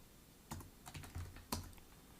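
Fingers tap at a computer keyboard during live C++ coding, a quiet sparse run of individual keystrokes with a few sharper clacks, close-miked and with no talking.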